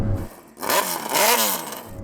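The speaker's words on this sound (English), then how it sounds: "Chris, can you rev up your bike? Can we have a listen to it?" A supercharged Suzuki Hayabusa motorcycle engine revs hard after a short idle, climbing and falling in two close, loud throttle blips with no voices over it.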